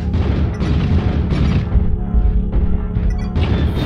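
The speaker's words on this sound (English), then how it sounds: "Artillery strike." An artillery strike explodes in a mech combat video game, a dense, heavy booming rumble with repeated blasts and crashes rolling together, loud and close, with no talk over it.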